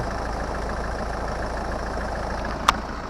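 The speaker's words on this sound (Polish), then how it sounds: "Silniczek widać myty, ale pracuje równo bardzo ładnie." A 2014 Citroen C5 2.0 HDi diesel engine idles with a low, even rumble, steady throughout, with one brief click near the end.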